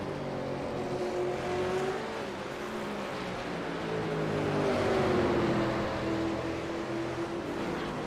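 Race car engine in a racing sim, a V8 touring car at Bathurst on Conrod Straight, droning steadily and rising slightly as it sprints past a rival, heard alone with no voices.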